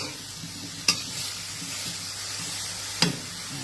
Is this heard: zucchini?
yes